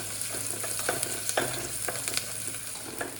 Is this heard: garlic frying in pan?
yes